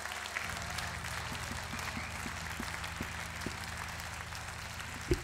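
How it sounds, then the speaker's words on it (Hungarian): An audience at a concert gathering of blues-rock musicians claps steadily for several seconds, a dense, even patter of many hands heard from a moderate distance. "Egy nap tapsolt gyerekek Bélának"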